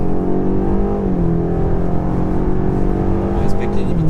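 A BMW X5 M Competition SUV fitted with an Akrapovič exhaust accelerates with a loud, steady engine drone whose pitch dips and then climbs again, heard from close by and continuous throughout.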